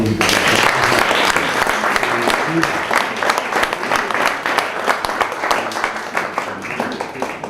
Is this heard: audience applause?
yes